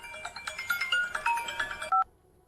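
Telephone number being dialed for an anonymous call: a quick run of about a dozen distinct keypad tones in steady rhythm, ending in a louder sustained beep, close and clear with no talk.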